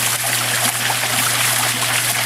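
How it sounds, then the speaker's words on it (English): Garden waterfall pouring down onto concrete rocks and into a pond, a steady, close splashing and trickling rush of water that continues without a break. "And it hits down on the concrete rocks in the pond, and it hits the water in the pond."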